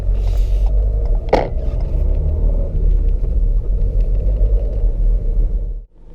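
A manual car pulls away slowly at the clutch biting point, its engine giving a steady low rumble close by, with one brief click partway through before the sound cuts off at the end.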